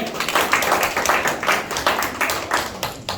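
Applause at a prayer training school testimony gathering in a church: a room of people clapping together in a steady, rhythmic beat, loud and close, with no speech.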